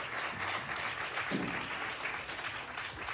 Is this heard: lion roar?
no